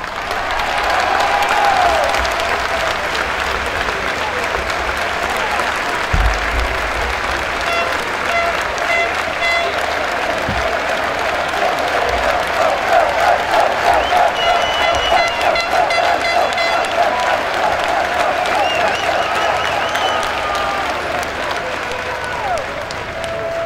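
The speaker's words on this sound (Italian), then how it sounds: "Applaudite." A large crowd at a political election rally in Rome applauds continuously, a dense sustained wash of clapping with cheers and scattered voices that lasts throughout.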